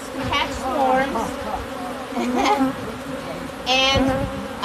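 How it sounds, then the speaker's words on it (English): A swarm of honeybees buzzes loudly around a wooden swarm box outdoors, with several close passes rising and falling over a steady drone while people talk nearby. "we know that there's a lot of bees here"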